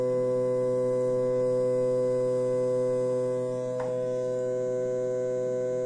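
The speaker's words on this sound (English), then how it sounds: "One motor is turning on the highest speed." A stepper motor on a winding machine runs at top speed, giving a steady tonal whine with strong harmonics that holds constant throughout, with a faint click partway through.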